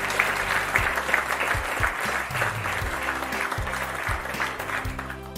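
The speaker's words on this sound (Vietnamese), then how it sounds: "cô sẽ thưởng cho các em một tràng vỗ tay nữa nhé" Schoolchildren in a maths class give a steady round of applause, dense continuous clapping at moderate volume throughout, with a low hum underneath.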